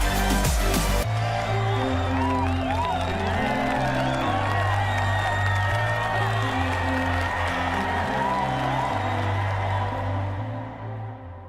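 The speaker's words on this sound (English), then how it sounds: "One more round of applause for our crew for the AX-2 mission." A crowd claps and cheers for the Axiom AX-2 space mission crew, a dense, loud wash of applause with whoops that carries steadily across the span and trails off at the end, with music playing underneath.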